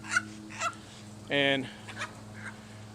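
A rooster and Americana hens in a backyard flock give short clucks and one louder, harsh squawk in the middle, with a brief spoken word near the start.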